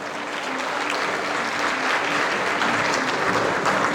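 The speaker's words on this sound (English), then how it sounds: "give another round of applause." Sustained audience applause fills the room at an HBCU week event, a dense, steady wash of many hands clapping at even loudness throughout, with no voices standing out.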